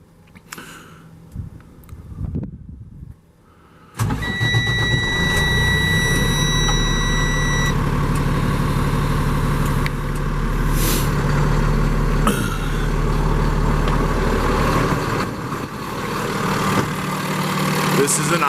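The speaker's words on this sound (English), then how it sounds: "This is an ISL Cummins engine, 300 horsepower max. As you can see, she runs great" A 2016 Freightliner M2 flatbed truck with a 300-horsepower ISL Cummins engine cranks after a few quiet knocks and settles into a steady, loud diesel idle, with a high whine over the rumble and small shifts in pitch.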